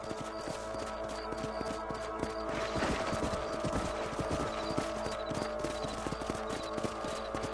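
Hooves gallop steadily in Red Dead Redemption, a rapid continuous clip-clop that runs under dense game ambience for the whole stretch, with a brief swell of extra clatter midway.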